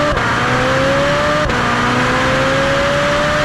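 Ferrari 458 with only a back box exhaust fitted, engine revving loudly on a lap, a sustained high wailing note that climbs, dips briefly as it shifts, then rises again.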